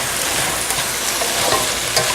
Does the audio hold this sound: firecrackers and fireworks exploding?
no